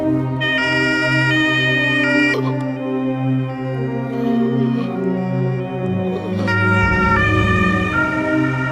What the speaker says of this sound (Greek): Έρχεται το ασθενοφόρο